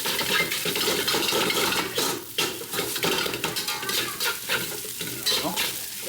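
A utensil scrapes and stirs across a pan bottom as Japanese steak fried rice sizzles, close, rhythmic rasping strokes over a steady frying hiss.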